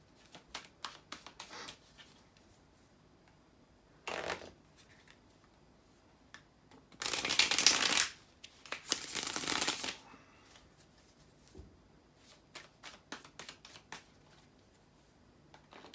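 A tarot deck is shuffled by hand at close range, with quiet flicks and taps and two louder riffling bursts in the middle. The sound is faint overall, with no talking.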